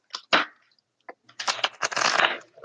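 A deck of cards is shuffled twice in close, crisp bursts of riffling and flicking, with brief pauses between and no talk over it.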